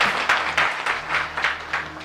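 An audience at a Ramayana quiz competition breaks into brisk, fairly loud applause, a dense patter of claps lasting about two seconds.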